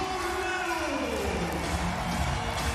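A packed arena crowd roars and cheers for Turkey during a Turkey versus Poland women's world championship volleyball match, a dense, sustained wash of voices filling the hall.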